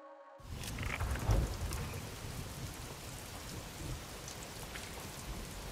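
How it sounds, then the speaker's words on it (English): Steady heavy rain pours in the Star Wars Outlaws video game, a dense, even hiss of drops spread across the whole clip with no voices over it. "it is raining and it's dark."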